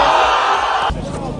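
A large crowd roars and cheers at a freestyle jumping contest, loud and dense for most of the moment before dropping to a lower, rumbling swell near the end.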